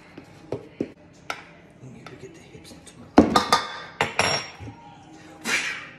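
A teaspoon stirs sugar and salt in a container, giving a run of light clinks and taps that build into louder scraping knocks midway, close and uneven, with no talk.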